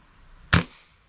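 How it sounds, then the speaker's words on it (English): A single sharp, loud crack from an airgun pistol firing a 30 grain slug through a Huggett Snipe moderator, with a brief decaying tail and a faint metallic tick near the end. "30 grain slug out of the pistol,"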